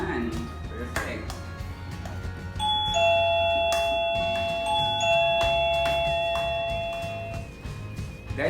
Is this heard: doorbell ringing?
yes